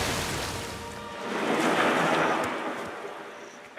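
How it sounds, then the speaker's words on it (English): Rushing roar of a really big cartoon waterfall, a broad, steady wash that swells in the middle and then eases off, with no voices over it. "Just really big waterfall."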